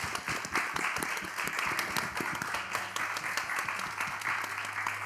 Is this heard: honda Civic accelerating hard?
no